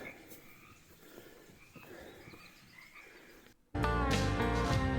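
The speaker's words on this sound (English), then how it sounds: "The frogs were just so loud today." Frogs in Fern Canyon croak in a quiet, rhythmic series. Then a much louder, dense chorus of croaking suddenly takes over close by.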